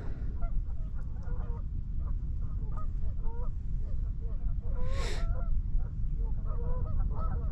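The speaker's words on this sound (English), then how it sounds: "I hear the geese over there." Geese honk repeatedly at a distance across the Tennessee River, heard from a kayak over steady wind and water noise.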